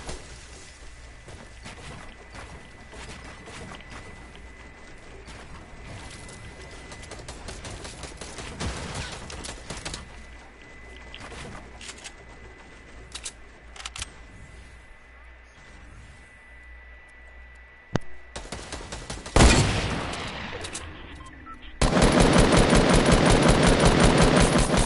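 Bursts of assault rifle fire in a shooter video game, mostly sporadic and mid-level under talk, turning into a loud, sustained rapid stream of automatic shots near the end.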